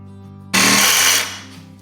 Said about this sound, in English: We're just drilling in the final holes for the cab mount bolts and rubber that goes to pair with it.